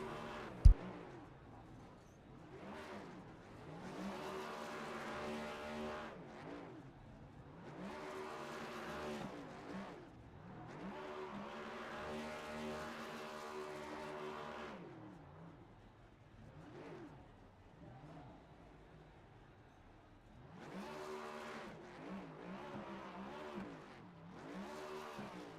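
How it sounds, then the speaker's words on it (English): A race car in the iRacing sim doing burnouts on the front straightaway at Indy, engine revving in repeated rising and falling surges with tire squeal, steady and fairly close throughout. "So Michael Rosero going to do some burnouts here on the front straightaway"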